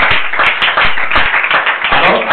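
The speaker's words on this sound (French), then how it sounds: "Acclamons très fort." An audience claps and applauds at a French-language religious gathering, a dense, steady patter of many hands filling the whole stretch at close range, with scattered louder claps.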